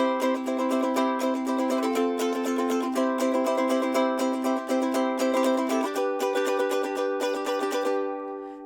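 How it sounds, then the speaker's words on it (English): Rapid, even ukulele strumming with bright chords changing along the way, played close and alone, ending with a ringing chord. "the strumming is going twice as fast, and it sounds like this."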